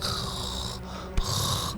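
Darth Vader's mechanical mask breathing from Star Wars: a slow, heavy rasping inhale followed by a hissing exhale, close and loud, with a brief click in between.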